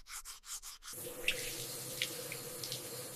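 A running water tap at a sink for washing a face, a steady close hiss of flowing water following a few short rubbing strokes, with faint splashes and small clinks.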